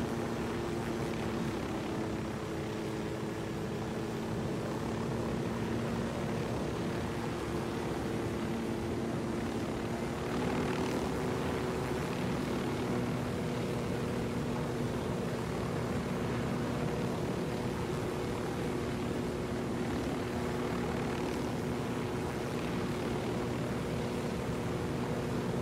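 A helicopter flies in the video game Ghost Recon Wildlands, giving a steady rotor and engine drone that holds at an even, moderate loudness for the whole stretch, with no voices.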